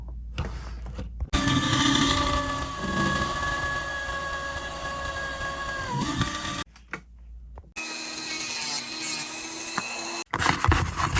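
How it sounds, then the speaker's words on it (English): A power drill bores a hole through the frame of an RC army truck, a steady high-pitched whine running for several seconds, dropping out briefly, then starting again close up. "Okay, that's where we drill the hole."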